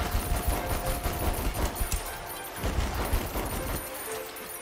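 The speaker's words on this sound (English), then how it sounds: "The machine guns are pretty cool, actually." Rapid machine-gun bursts fire continuously in the video game Conker's Big Reunion, dense and loud throughout with brief dips between volleys and no talking.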